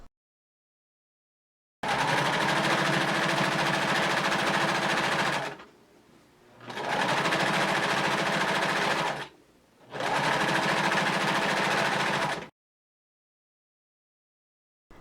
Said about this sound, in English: Stitch along the edge, making a 1/4 of an inch hem.